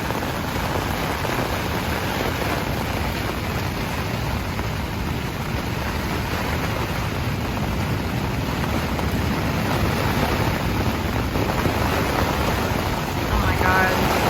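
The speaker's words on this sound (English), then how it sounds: "The winds are insane." Strong wind roars continuously on the Appalachian Trail, buffeting the microphone with a dense, steady rush and occasional heavier gusts.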